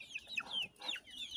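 Chickens clucking in a pen shared with ducks and ducklings, a few short rising calls close by with no one talking.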